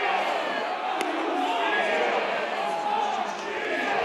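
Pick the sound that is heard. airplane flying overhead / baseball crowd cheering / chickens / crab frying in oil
baseball crowd cheering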